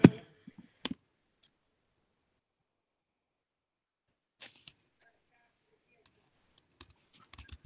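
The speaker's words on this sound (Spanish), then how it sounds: "Y después hacer clic en la ventana que se abre." Computer mouse clicks during an online presentation setup: a few sharp isolated clicks at the start, a long quiet gap, then a scattering of light, irregular clicks close to the microphone.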